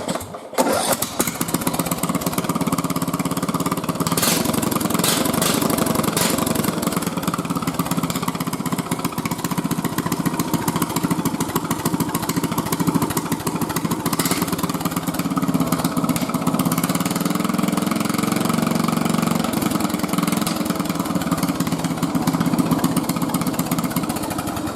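A mud mower's engine runs continuously through a newly fabricated exhaust, a loud, raspy, steady roar with a brief start at the beginning and rough crackling pulses layered over the drone.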